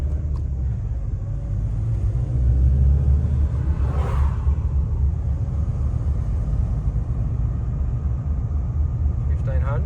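A Nissan Navara pickup engine accelerates at full throttle in third gear, a loud, steady rumble from inside the cab with a brief whooshing swell midway, and someone talks over it.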